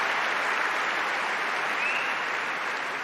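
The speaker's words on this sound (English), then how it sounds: "Pedro deserves a round of applause for his performance today" Crowd applause on Wimbledon Centre Court, a dense steady wash of clapping throughout, even and moderately loud with no voices over it.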